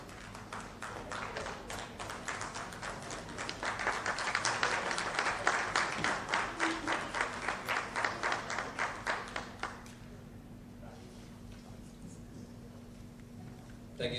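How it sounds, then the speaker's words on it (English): Faint applause from an audience at a property launch event with a film star guest, a soft clapping wash building then stopping abruptly, leaving a quiet hum of the room. "Please give a huge round of applause."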